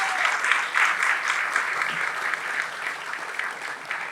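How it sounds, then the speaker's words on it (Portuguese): A crowd at a Paraná tourism gathering in the Hard Rock Café Curitiba breaks into sustained applause, many hands clapping densely at moderate distance, swelling slightly and then settling into a steady roar. "Vamos bater palmas por isso?"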